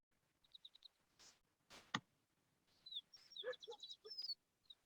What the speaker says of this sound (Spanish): Ese sonido de los pajaritos está hermoso.